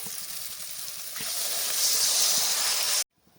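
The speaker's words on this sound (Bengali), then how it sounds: "এবার আমি গ্রেভির জন্য জল দিয়ে দেব" Water hits hot fried spice paste for a vegetarian egg-style curry gravy, a broad hiss that swells louder midway, then cuts off abruptly into near silence.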